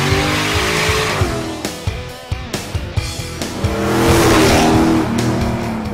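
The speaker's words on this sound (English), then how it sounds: "we then move our vehicle to the street for road testing" A tuned 2010-2011 Chevrolet Camaro being road tested on a street, engine roaring with rising and falling revs, short sharp bursts of acceleration and possible tire squeal, loud and close.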